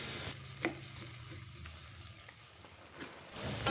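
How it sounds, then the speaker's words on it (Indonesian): Vegetables and meatballs cook in a pan with a steady, close sizzle and soft stirring scrapes, plus a few sharper clinks from a utensil against the pan. "masak hingga semua sayuran dan baksonya matang merata"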